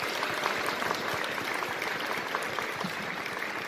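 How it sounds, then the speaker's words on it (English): An audience claps steadily at a school board meeting in Carson City, a dense, even wash of many hands over about four seconds with no talking. "let's give each other a nice round of applause"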